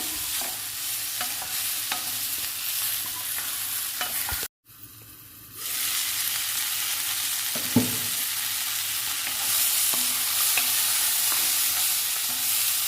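Coriander seeds, cumin, mustard seeds and lentils frying for a tempering, a steady close sizzle with stirring scrapes, briefly cutting out for about a second before the frying hiss returns alone.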